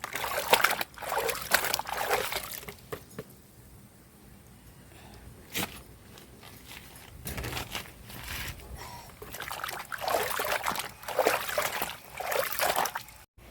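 Water trickles and splashes in uneven bursts as bananas are washed by hand, the flow fading briefly mid-way before picking back up, close and moderately loud with no talking.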